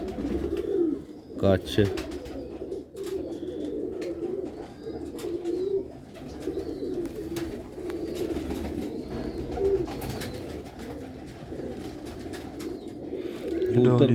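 Sialkoti pigeons coo in a soft, continuous rumble throughout, with someone talking over them and small bird chirps scattered in.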